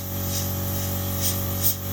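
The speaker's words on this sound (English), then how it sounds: "I'm just gonna spray the cocoa butter on half of this." A spray gun sprays cocoa butter onto a surface with a steady, continuous hiss. A few brief louder bursts come near the end.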